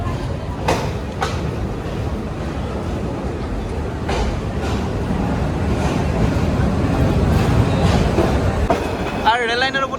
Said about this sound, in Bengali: তো আমরা এখন ছেড়ে যাচ্ছি ঢাকা বিমানবন্দর রেলওয়ে স্টেশন